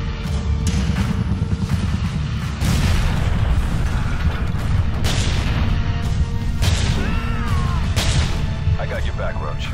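Continuous gunfire and heavy booming blasts fill a Call of Duty: Modern Warfare 2 arcade-mode battle, loud and dense throughout, with character voices speaking over the shooting.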